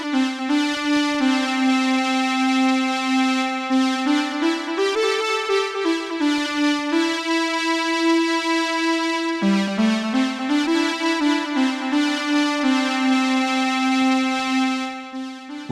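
A smartphone music-production delay effect repeats a sustained synth melody, gliding tones trailing into layered echoes, loud and steady throughout with no voices.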